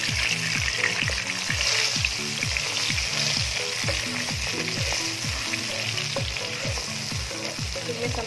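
Blended bird's eye chili and onion sautéing in hot oil for sardine sambal, a steady loud sizzle and crackle with a rhythmic scrape of a spatula stirring through the pan, no talking.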